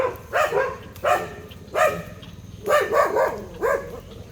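A dog gives a series of sharp, yelping barks nearby, about five or six in an uneven rhythm with short pauses between, at a jackfruit fair.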